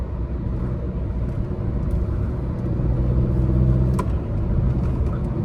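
Tata Nexon with a 1.5 liter Revotorq turbo diesel engine and intercooler driving through ghat roads at night, giving a steady loud cabin rumble and engine drone that swells slightly mid-way, with no talking.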